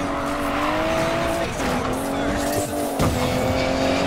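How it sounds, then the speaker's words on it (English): An Aston Martin DB11 races in Need for Speed Payback, with its engine droning steadily at high revs. Tires squeal and skid as it goes, and gear-change dips come around 1.5 and 3 seconds. "It's not every day I get to take Bruce DB11 for a spin"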